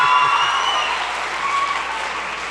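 An audience applauds and cheers at a school awards ceremony honoring a high school coordinator, with steady, dense clapping that fills the room and holds at a fairly even level throughout.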